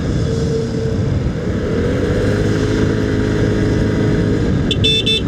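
Stock horn of an FKM Core 188cc motorcycle gives a short burst of honks near the end of the ride, cutting through steady, loud engine and road noise.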